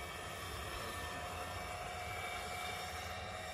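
A 1/6th scale RC Bell 429 model helicopter flies with a steady, loud turbine whine and rotor drone, holding constant without any talk over it.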